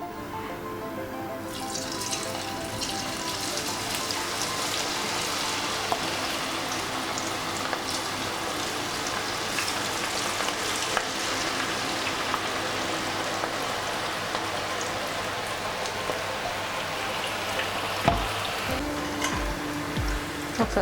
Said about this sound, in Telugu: ముందుగా కలిపి పెట్టుకున్న స్వీట్ కార్న్ ఆనియన్ది వేసుకుందాం.